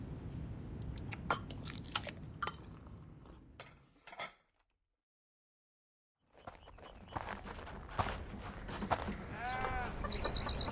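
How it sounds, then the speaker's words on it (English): In the video game Reverse 1999, wooden spoons scrape against steel bowls amid chewing and swallowing. Close, irregular scrapes and clicks run for several seconds, break off into near silence, then resume with more chewing and clinking. "The sound of wooden spoons scraping against steel bowls mingle with chewing and swallowing"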